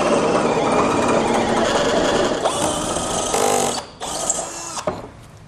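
A power drill whines steadily at high speed while drilling through the steel frame of a 2017 Smart Fortwo for a base plate installation, loud and close, dipping briefly near the end before grinding on.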